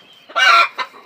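A big Sonali rooster weighing about three to four kilograms gives a loud, close, drawn-out cluck followed by a shorter second one, with no other sound around it.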